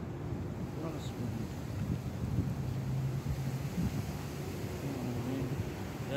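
Wind blows across an outdoor shooting range, a steady low rumbling buffet against the microphone that holds at an even level, with a faint muffled voice underneath.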